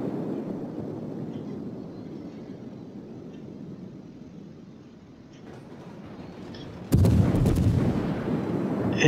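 Naval guns fire from a warship in World of Warships, a sudden heavy blast after a long low rumble, followed by sustained loud booming and roar.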